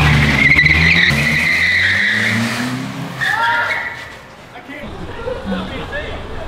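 A turbocharged daily-driver car launching in a street-style drag race, tires screeching and skidding loudly as the engine revs, with a crowd murmuring and voices talking over it.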